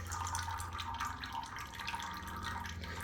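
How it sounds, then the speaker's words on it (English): Engine oil drains from the drain plug of a Honda XR250 motorcycle, a faint steady trickle and dripping that continues without a break and with no voices. "Okay, the oil's draining."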